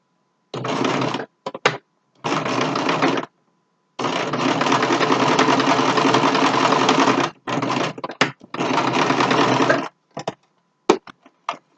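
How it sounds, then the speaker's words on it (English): A home sewing machine stitches fabric for a homemade mask in stop-start bursts, with a fast, steady mechanical whir-and-clatter for a few seconds at a time, one longer run in the middle, and short taps between, close and loud. "then you want to sew about halfway down, leave a space, sew down because you need to turn it inside out when we're done"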